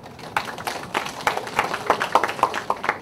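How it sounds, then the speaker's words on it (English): A small audience at the opening ceremony of an Asian global leadership program claps for the participating teams, giving sparse, uneven, fairly close hand claps that build slightly in density across the few seconds. "Okay, so big applause again"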